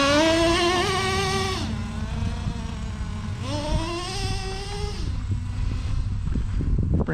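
Traxxas T-Maxx 3.3 nitro RC truck engine screaming at full throttle on a first start during break-in, a loud high-pitched whine that climbs, dips briefly and revs up again, continuous for several seconds with no talking.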